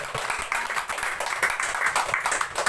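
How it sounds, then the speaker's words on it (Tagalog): A congregation at a church service bursts into loud, sustained applause, dense overlapping handclaps filling the space evenly throughout. "Isang malakas na palakpak po sa Panginoon."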